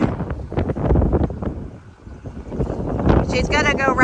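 Strong gusty wind ahead of a storm buffets the microphone in a continuous roar, with people talking over it throughout.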